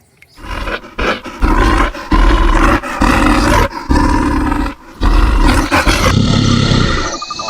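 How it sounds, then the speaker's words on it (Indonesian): A bear roars loudly and close in repeated long bursts, with brief pauses between them, ending in a quieter rasping tail. "Ini beruang."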